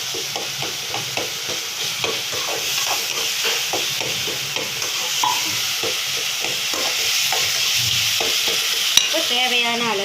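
Ginger garlic paste fries in a pan for chicken gravy while a spoon stirs it in steady rhythmic scrapes over a constant loud sizzle.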